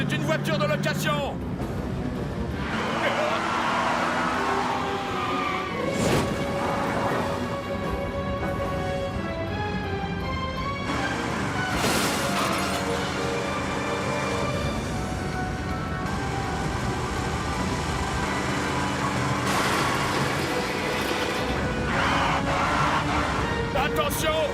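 Rental car engine driving during a cartoon car chase, a continuous loud rumble with passing surges and swells throughout, mixed with music and effects, with voices talking over it.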